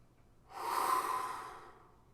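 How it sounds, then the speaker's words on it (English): A single slow, soft exhaled breath swells in and fades over about a second, close and quiet against near silence. "Exhale."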